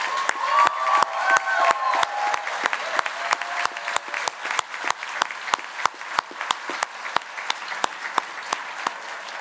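Sustained round of audience applause for honorees at an annual alumni awards reception, steady dense clapping with sharp individual claps, a few cheers and faint voices mixed in, lasting several seconds.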